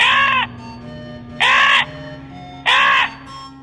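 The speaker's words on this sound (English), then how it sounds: "When Crow drank that water, he merrily flew away." A crow caws three times in a told story, loud, harsh and close, each call about half a second long with pauses between them over a faint background hum.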